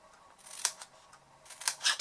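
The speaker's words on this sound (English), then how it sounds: "we're just going to cut away those corners and make them into little tabs" Scissors snip away the corners of a piece of card to form small tabs, a few short crisp cuts close up in a quiet room.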